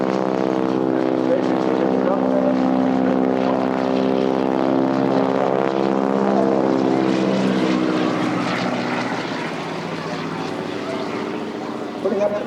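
A propeller aerobatic display aircraft flies at the Eastbourne Airshow, its loud droning engine roaring steadily and shifting in pitch as it passes, under an announcer's commentary.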